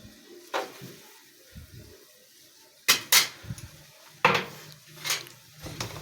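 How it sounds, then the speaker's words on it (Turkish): A spoon stirs salted braised beef kavurma in a pot, giving a few sharp metallic clanks and scrapes against the pot with quiet gaps between them, close and clear with no talking. "Arkadaşlar böyle karıştıracağız. Yağ eriyene kadar."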